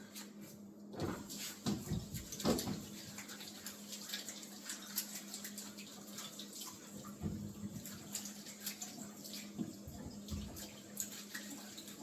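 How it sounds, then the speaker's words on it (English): Sweet potatoes rinsed under a running kitchen tap, a steady stream of water with splashes and occasional knocks as the tubers are handled, close and moderately loud with no talking. "I'll wash the sweet potatoes and peel them real quick."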